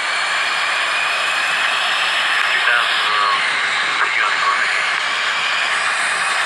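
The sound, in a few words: helicopter taking off in Helicopter Flight Pilot Simulator video game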